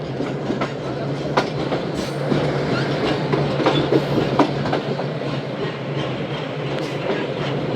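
The Shalimar Express runs on its first trip on 14 August, with wheels clattering rhythmically over rail joints. Carriages roll past close and steady, with occasional sharper clanks.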